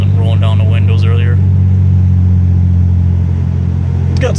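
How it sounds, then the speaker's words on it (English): Supercharged Pontiac Grand Prix GTP with a ZZP 3-inch exhaust, heard from inside the cabin as a loud, steady low engine drone with a faint whine on top, and a voice talking over the first second. "so you can hear that supercharger whine a little bit"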